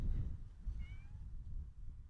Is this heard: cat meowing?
yes